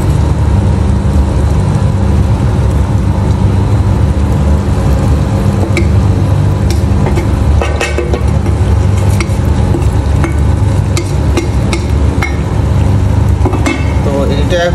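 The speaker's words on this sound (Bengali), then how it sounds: "এটা এখন মানে খুব ভালোভাবে মশলাটা কষানো লাগবে" Spice paste of chili, turmeric and ginger-garlic fries in a pan, a loud continuous sizzle broken by repeated scraping and stirring clatter throughout.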